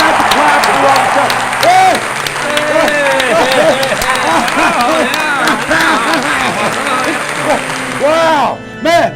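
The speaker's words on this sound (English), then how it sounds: "Let's have the clap for Robert Scott." A studio audience claps and cheers loudly and continuously for a celebrity guest, the Godzilla actor Robert Scott, with voices talking and calling out over the applause.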